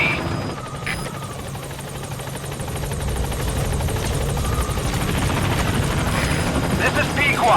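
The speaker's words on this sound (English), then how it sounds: "Support helicopter has arrived." A support helicopter in Metal Gear Solid V arrives at the landing zone, its rotors giving a loud, steady thrumming roar that grows slightly stronger and holds throughout.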